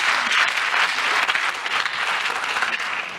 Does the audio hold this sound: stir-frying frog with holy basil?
no